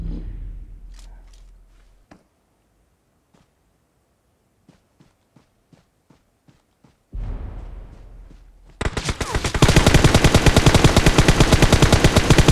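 Gunfire in the battle royale video game PUBG on the Sanhok map: a loud shot that decays, a run of faint, evenly spaced distant single shots, then a sudden sustained rapid burst of automatic fire up close.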